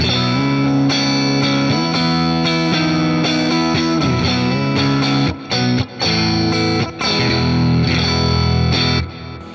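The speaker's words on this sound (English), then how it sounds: "I'm going to show you just what the deluxe reverb sounds like." A loud electric guitar through a Deluxe Reverb amp plays sustained chords with a shimmering chorus and reverb, ringing continuously with a few brief gaps between strums.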